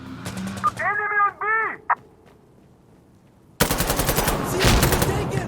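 Automatic gunfire from the shooter game Insurgency: Sandstorm crackles in a loud, rapid burst late on, after earlier quieter in-game sounds and a brief pause.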